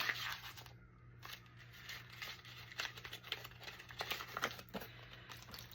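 A paper bag being crumpled and crinkled close by, a steady run of crackling, rustling bursts with no talking.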